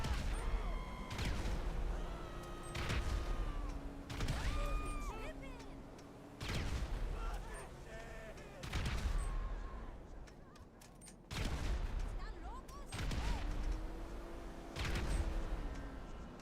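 Grenades explode in GTA Online, about six heavy booming blasts spaced a couple of seconds apart. Each rings into the next over constant game noise and tonal effects.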